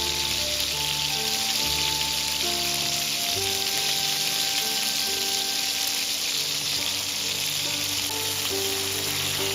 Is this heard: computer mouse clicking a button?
no